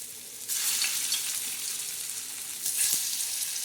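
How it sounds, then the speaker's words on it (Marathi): Coriander mutkule dumplings fry in a modest amount of oil, a bright sizzling hiss that surges as they go in and swells again near the end, close and steady. "अशा नॉर्मल तेलात ह्या अशा मस्त आता आपण तळणार आहोत."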